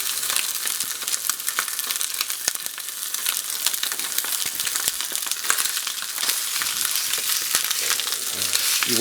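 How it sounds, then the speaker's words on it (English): Sausage browning in olive oil in a hot pan, a loud close sizzle with sharp spitting pops and crackles throughout, with a brief scrape near the end and no talking. "I want to put a quick brown on this and get it browned up quickly."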